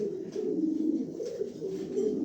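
Pigeons at a sale of top-quality birds coo in a steady, low, throaty rolling drone that carries unbroken from start to finish at moderate volume, with no talking.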